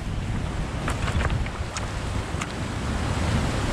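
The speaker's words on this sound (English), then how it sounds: "The last time the sea wasn't this rough" Rough sea surges and washes against a steep rocky shore in a continuous roar, with wind buffeting the microphone and a few sharper splashes breaking through.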